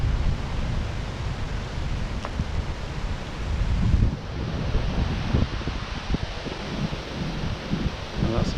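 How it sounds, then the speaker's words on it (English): Wind blows hard by the Menai Strait on Anglesey, buffeting the microphone with a loud continuous low roar and rushing noise that gusts unevenly throughout. "Hopefully the wind's not quite so bad here."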